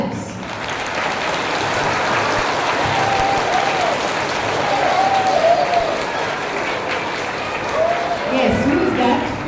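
A school assembly crowd claps louder for guests taking the stage at a value education programme. Dense, energetic applause swells and rolls on for several seconds, with brief voices and a shout rising through it.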